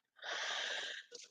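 A person gives a single close, breathy yawn lasting about a second, trailing off into a short exhale.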